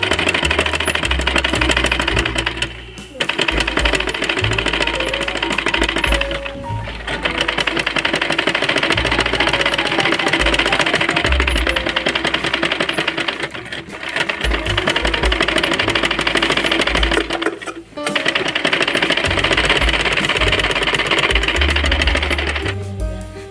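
Sewing machine stitching a child's umbrella frock, a loud steady mechanical whir running continuously with a few brief pauses between seams and a low rhythmic thump beneath, no talk.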